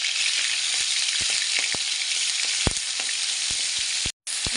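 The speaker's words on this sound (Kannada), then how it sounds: "ಮೊದಲಿಗೆ ನಾವು ಶುಂಠಿ ಬೆಳ್ಳುಳ್ಳಿ ಪೇಸ್ಟ್ ಹಾಕೊಂಡು ಫ್ರೈ ಮಾಡುವ." Ginger garlic paste frying in a pan for chilli chicken, a loud, continuous hiss of sizzling oil nearby with a few sharp pops and spoon taps, cutting out for a brief moment near the end.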